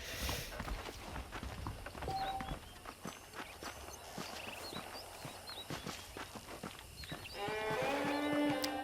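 Horse hooves clip-clop in a Red Dead Redemption ranch scene, a steady walking rhythm of light hoof strikes with faint animal sounds, bird calls and a brief whinny-like tone near the end.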